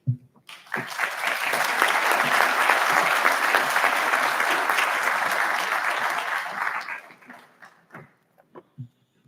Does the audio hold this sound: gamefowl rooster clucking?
no